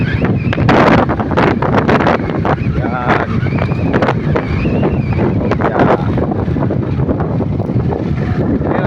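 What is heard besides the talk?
wind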